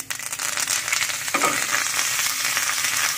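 Curry leaves dropped into hot tempering oil already holding mustard seeds, cumin and asafoetida for a kachumber salad, giving a loud, steady sizzle and crackle with a sharp burst as the leaves hit the oil.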